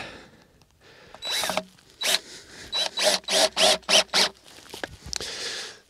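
A cordless drill drives a screw into wood for a raised garden bed, starting in short bursts and then settling into a rapid series of about eight even pulses before it stops, close and clear.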